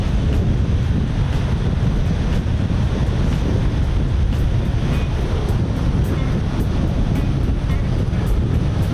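Strong wind buffets an outdoor microphone during a paragliding outing, a loud constant roar with gusty rumble and no talk.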